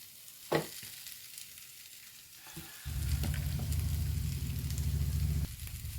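Chopped chapati for kothu chapati hits a hot pan: a few quiet clinks and taps, then a sudden steady sizzle with a low hum that runs for a couple of seconds before cutting off.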